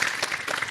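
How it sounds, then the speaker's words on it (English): Live audience at a Spider-Man live show in a venue clapping, a short steady burst of applause with no talk over it. "can we get a round of applause for the team here at Mosh?"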